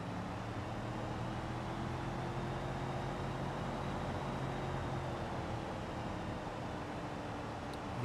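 A four-wheel-drive car in BeamNG climbs up a tunnel, a steady low engine drone and road rumble held at an even, moderate level throughout with no talk.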